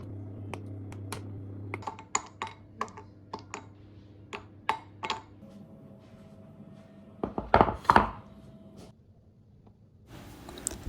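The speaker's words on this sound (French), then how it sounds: "on coupe des carrés de chocolat pour mettre en topping" A knife chopping chocolate into squares for cookie topping, with a series of sharp close taps on a board, irregular at first then a louder cluster, alone without talk.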